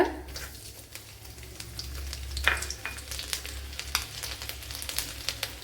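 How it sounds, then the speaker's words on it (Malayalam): Garlic and three crushed cardamom pods fry in hot oil with mustard seeds, giving a close, continuous sizzle with frequent crackling pops and spits and no talking. "അതുപോലെ അതിലേക്ക് ഒരു മൂന്ന് ഏലക്ക ചതച്ചത് ഇട്ട് കൊടുക്കുക അതുപോലെ ഒരു വെളുത്തുള്ളി ഇട്ട് കൊടുക്ക"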